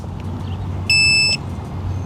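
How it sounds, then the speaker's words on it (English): One steady electronic beep from a SkyRover S1 mini drone remote controller powering on, high and clean, sounds for about half a second over a low background rumble. "And it beeped, so we know it's on"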